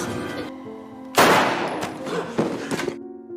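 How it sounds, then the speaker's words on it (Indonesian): A gunshot in a film scene, one loud sudden blast followed by echoing cracks and thuds, sharp and close against a quiet background. "ia menembak Sam."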